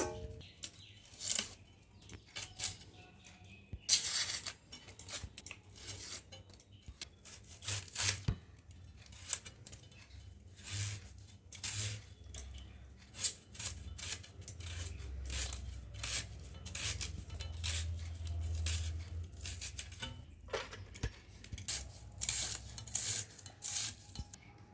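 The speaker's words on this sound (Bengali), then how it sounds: "আমি ছাড়িয়ে পেঁয়াজগুলো সব কেটে নেব।" Onions being peeled and chopped for a Bengali bhetki fish-bone curry, with rapid, steady knife taps and papery tearing close by, continuing throughout without talk.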